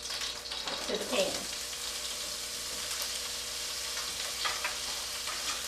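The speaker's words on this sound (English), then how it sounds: "Now our next step in this is going to be to add our smoked andouille to the pan." Smoked andouille sausage sizzles and fries in a pan, a steady hiss with a brief clatter of stirring near the start.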